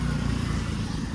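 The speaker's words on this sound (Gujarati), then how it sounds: "આપણે તો એક્ટિવા લઈને આવ્યા છીએ, ઘણા દિવસે એક્ટિવા ચલાવીએ" An Activa scooter being ridden gives a steady, loud low engine drone with road and wind rumble throughout, no voices over it.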